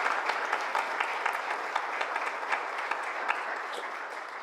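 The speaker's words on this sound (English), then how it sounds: "let's give Dr. Green a fantastic round of applause" Applause from the audience at a Pella city council forum, honoring Dr. Green: a steady, dense wash of many hands clapping that holds evenly throughout, with no voices over it.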